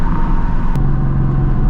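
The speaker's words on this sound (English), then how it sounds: "Absolutely love the way this car sounds with just the H-pipe." A 2024 Ford Mustang GT with an H-pipe exhaust gives a steady, loud, deep rumble close by, a continuous low drone without distinct revs.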